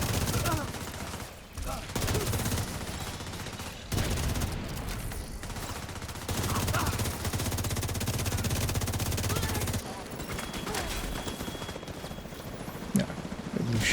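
Video game gunfire in a first-person shooter, long bursts of rapid automatic shots crackling in sustained volleys with short pauses between them, loud and close.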